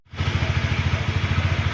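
TVS Ntorq scooter engine idling smoothly and quietly after a crankshaft repair, with a steady, even pulsing putter close by and no other sounds.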